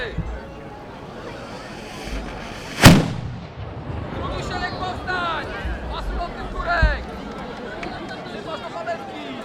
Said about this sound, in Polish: Odpalaj armaty.